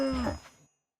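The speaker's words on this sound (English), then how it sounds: "Wait, was that a cow?" A single short cow moo from the Minecraft video game, clear and moderately loud, fading out quickly into silence.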